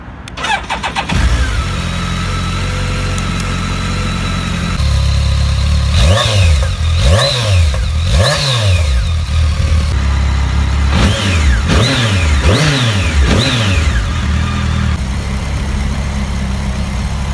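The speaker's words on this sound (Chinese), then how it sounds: "先大家听一下发动机声浪。" A BMW K1600GTL touring motorcycle engine cranks and starts, settles into a steady idle, then gets blipped in a run of sharp, loud revs that rise and fall, close up with no talk.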